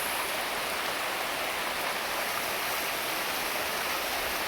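Steady, heavy rain falls near a house with large trees in front, an unbroken wash of hiss at even loudness, with no voices.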